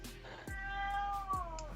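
A cat lets out one drawn-out, wavering meow close by, with a faint voice and a low hum underneath, in a room during a live four-player Commander card game.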